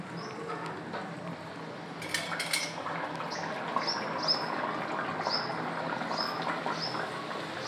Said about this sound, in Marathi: गॅस कमी करून घ्यायचा आणि आता यामध्ये मी ही पुरी सोडणार आहे.